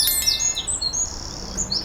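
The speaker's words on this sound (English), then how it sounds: "wren" Wren song in a bird-sounds lineup: high, rapid chirps and thin trilled whistles alone for under two seconds, fairly clear over a faint background hiss.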